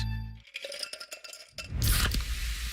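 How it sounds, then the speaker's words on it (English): A can of Pepsi Zero Sugar cracks open with a sharp click, followed by a loud hissing fizz that swells and fades. "That's the sound of Pepsi Zero Sugar."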